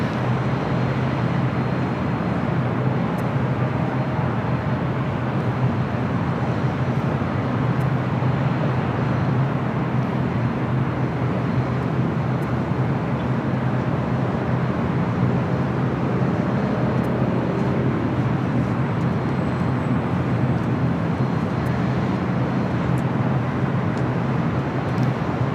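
A Lufthansa jumbo jet taxis across the apron at LAX in front of Atlantic Aviation, giving a steady, broad engine roar that holds at an even level throughout with no talk over it.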